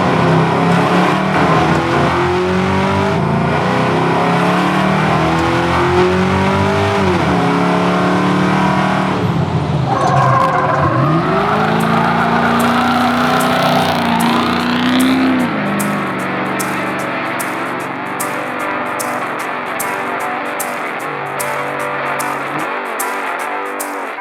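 A Kibbetech car fitted with a swapped F500 engine revs hard through a raspy exhaust, the pitch sweeping up and down in sustained loud pulls that ease off toward the end, with no voices.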